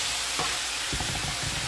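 Onion and asparagus frying in a pan on a stovetop, a steady close sizzle with a few stirring scrapes and clatters, no talking.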